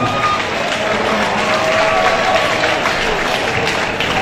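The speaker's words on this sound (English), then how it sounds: "Can you give Grays a big round of applause and his family, please?" A crowd at a boxing event gives a big round of applause, steady loud clapping mixed with some cheering throughout.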